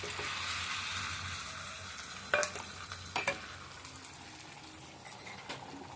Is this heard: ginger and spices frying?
yes